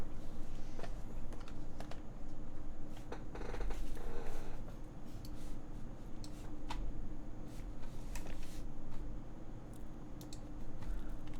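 Keys on a Vertex S100 mechanical keyboard clack in quick, irregular bursts of typing, close but fairly quiet against a low background hum.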